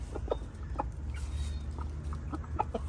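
Chickens in a garden cluck softly in short, scattered bursts while pecking at plants and leaves, a few birds nearby over a steady low outdoor rumble, with no talking.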